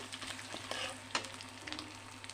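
Nuts and grated coconut stirred and frying in a pan for a vegetable khichuri, a quiet sizzle with light scraping strokes of a spoon, brief and without talk.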